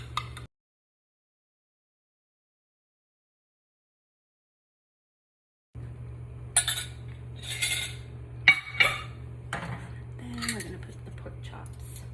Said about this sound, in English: now we're going to stir in the gravy